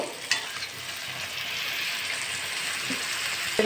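Chicken pieces drop into hot oil and gravy in a pan for a potato chicken curry, with a steady, close sizzle and frying hiss and a few soft clinks from stirring.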